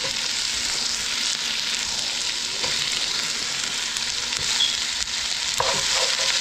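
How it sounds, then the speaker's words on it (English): Vegetables stir-frying for island-style run down chicken, a steady loud hiss of oil sizzling close up with a few faint scrapes and clinks, no talk. "Let that stir fry in there, okay?"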